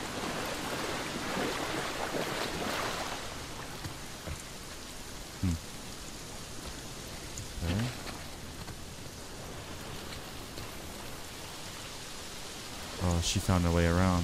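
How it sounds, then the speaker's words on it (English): Steady rain hiss fills a video game scene in The Last of Us Part II, with a few brief thuds and sharp knocks scattered through and a louder burst near the end. "It is raining."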